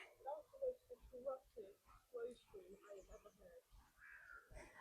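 A voice imitates a crow's caw with repeated rough 'rah' calls in a quick rhythmic series, close and quiet, with some muffled talking mixed in.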